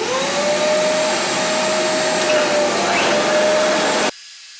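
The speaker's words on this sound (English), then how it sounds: "what I've got to do is I've got to plane them to get a nice straight edge or a couple of straight edges on them all" A power planer shaves the edges of wood boards for a sewing table. Its steady, loud, whining roar runs for about four seconds, then cuts off abruptly.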